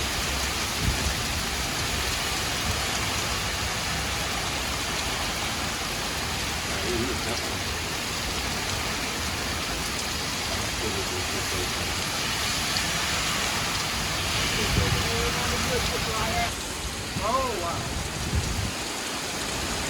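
Severe thunderstorm microburst in Washington with 60-70 mph winds: heavy wind-driven rain roars steadily and loudly, gusting in waves, while a person briefly exclaims near the end.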